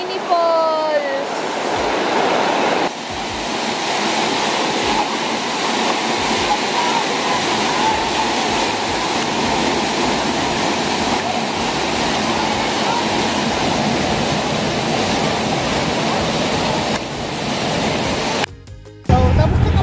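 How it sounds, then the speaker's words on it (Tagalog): A small waterfall rushes in a loud, steady, broadband roar of falling water at close range, continuous throughout, with a brief voice at the start and a sharp dropout near the end. "Wow! Mini falls."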